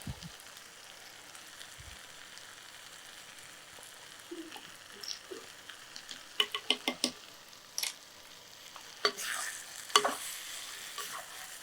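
Quail with small potatoes, cumin and ghee being stirred in a hot pan, with a soft steady sizzle under a run of scraping, clattering stir strokes in the second half.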